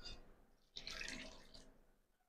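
Water poured into a large batch of martabak batter in a mixing container, a brief splash and then a steady close gush that tapers off over about two seconds, with no talking.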